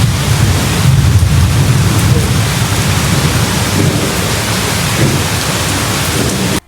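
Heavy rain pours steadily outdoors as a thunderstorm eases, with dense broadband hiss and low rumbling thunder underneath, loud and continuous throughout with no voices.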